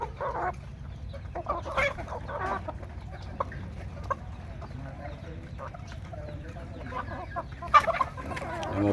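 Native chickens cluck and murmur on a farm, a scattered series of close, short clucks and squawks over a soft background, with one louder burst near the end.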